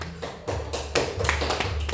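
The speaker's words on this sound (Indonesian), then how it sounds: "Tepuk tangan untuk kelompok Mira." Students in a classroom applaud a group's presentation, a dense wash of many hands clapping at once, steady and moderately loud throughout.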